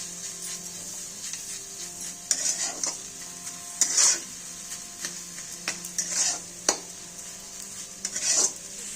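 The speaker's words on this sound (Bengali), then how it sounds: "এখানে আমরা পুরের জন্য নারকেলটা ভালো করে ক্ষীর করে নিচ্ছি ভালো করে ভেজে" Grated coconut filling for palm-fruit patishapta pitha is stirred and fried in a pan. A quiet sizzle runs under repeated bright scraping strokes of a spatula against metal, coming in irregular bursts, and no one talks.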